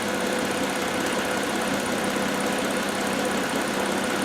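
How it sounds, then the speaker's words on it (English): A Hyundai Tucson engine with a drive-cycle fault runs loud and steady at close range, a constant mechanical drone with no clear revving surges and no voices. "We'll give her, capture a couple throttle snaps here."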